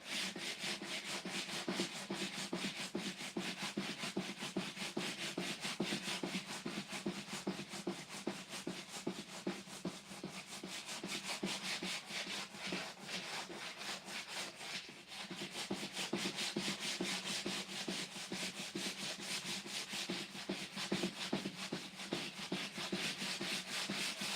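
Steady hand sanding of primer on a Nissan S13 race car dashboard, a continuous close scratchy rubbing with rhythmic back-and-forth strokes, faint and unbroken throughout with no talk.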